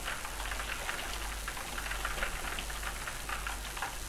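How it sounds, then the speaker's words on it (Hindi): Steady rain falls outside in the horror video game Locked Up, a constant close hiss of drops on surfaces running unbroken throughout, with no speech. "अच्छा बारिश हो रही है बाहर"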